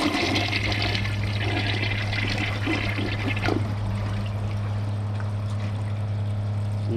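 Two toilets, a 2005 Kohler Wellworth Ingenium and a 2008 American Standard Champion 4, flush side by side in a steady, loud rush of water over a constant low hum, with no voices.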